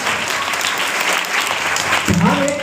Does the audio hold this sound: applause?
yes